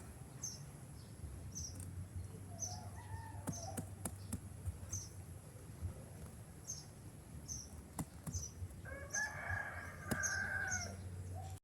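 A rooster crows loudly nearby, with insects chirping steadily in the background and some faint clucking earlier.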